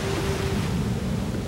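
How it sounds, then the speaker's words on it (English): Churning water and waves around tugboats make a short, dense, steady rush of swirling surf, loud and close, with a faint tonal hum in the first half. "why is the water so churned up?"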